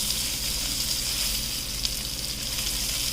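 Salmon fillet sears in a hot pan with a steady, close, dense crackling sizzle that holds at an even level throughout, with a few sharper pops.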